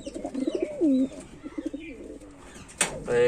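Soft, throaty coos from Giribaj and Lotan pigeons in a loft, short rolling phrases, nearby, followed by a sudden flutter or rustle near the end.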